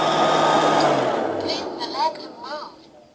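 A Liectroux B3000 robot vacuum cleaner runs with a steady, close whirring motor hum that fades slightly toward the end, with a few brief higher tonal squeaks near the finish.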